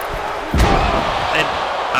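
A wrestler slammed down onto the ring mat at an indoor independent wrestling show, one heavy booming thud over steady crowd noise, with a commentator talking.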